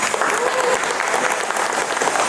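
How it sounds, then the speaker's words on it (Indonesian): A vocational automotive classroom of students bursts into steady, continuous applause, dense overlapping clapping filling the room from start to finish. "Wah, tepuk tangan dulu buat kita semua."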